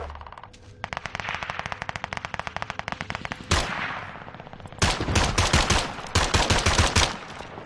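Rapid automatic gunfire from Call of Duty: Warzone, loud close bursts of machine-gun fire in fast rhythmic strings, broken by a heavy blast and short pauses.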